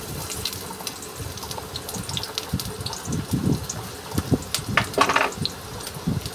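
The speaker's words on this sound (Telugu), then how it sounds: "ఆనియన్స్ ముక్కలు ఉన్నాయి కదా, అవి ఈ ఆయిల్లో మనం వేసుకుందాము" Chopped onion pieces fry in hot oil in a pan for a gongura chicken curry, a close, continuous sizzle with irregular louder spits and crackles.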